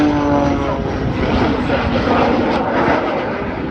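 An aerobatic propeller aircraft performing manoeuvres at the Duxford Summer Air Show, with a loud continuous engine roar and drone that shifts slightly in pitch, close and steady throughout.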